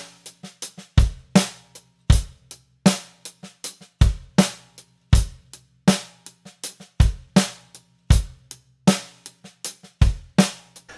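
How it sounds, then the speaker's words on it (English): Drum kit playing a groove, a steady loud kick and snare pattern with soft snare ghost notes and hi-hat filling between hits, close and dry with no talking. "I'm gonna add a ghost note on the snare drum on the last 16th note of the second count"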